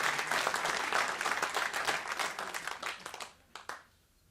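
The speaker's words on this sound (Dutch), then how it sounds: "geef hem een applaus, zou ik zeggen" An audience gives a poet a round of applause, dense, lively clapping that carries on steadily and then thins out to a few last claps before stopping.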